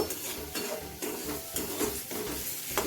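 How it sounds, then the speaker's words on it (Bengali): Spices with Kashmiri chili are stirred and fried in a pan, giving a soft steady sizzle with repeated scraping strokes of a spoon at an even rhythm, close and fairly quiet. "এবারে ভালো করে সবগুলোকে একসাথে একটু নেড়েচেড়ে ভালো করে ভেজে নেব।"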